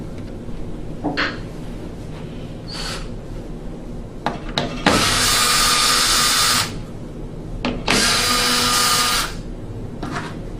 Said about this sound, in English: loosen all four of these screws on the hose clamps